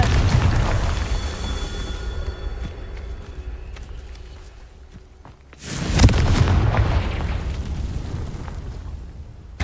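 The Confringo blasting spell explodes in Hogwarts Legacy, a deep, rumbling burst of game blasts and debris that fades into a lull, then a second sudden, louder boom erupts and keeps rumbling.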